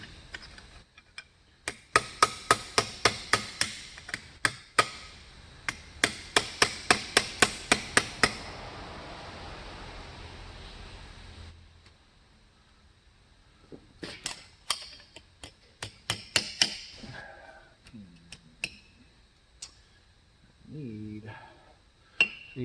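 A hammer strikes an aluminum armor ear flap in quick runs of sharp metallic taps, separated by pauses, with lighter scattered knocks later on.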